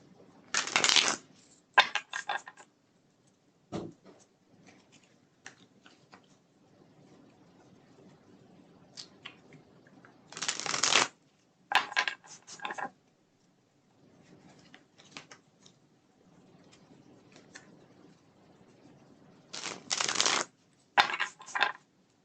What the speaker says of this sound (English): And we're on to shuffling the last deck here